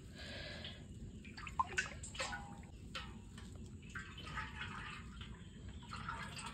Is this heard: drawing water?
yes